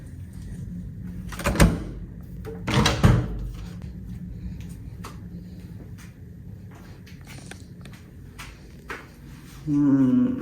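Small bedside drawer in a Dublin hotel room being pulled open and pushed shut, two distinct wooden thuds and slides close by, followed by quieter room handling noises and a brief hum near the end.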